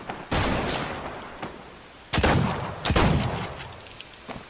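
Gunfire in the video game Fortnite Battle Royale: several sharp, loud shots with echoing tails, one early and a close pair later, alone with no talk.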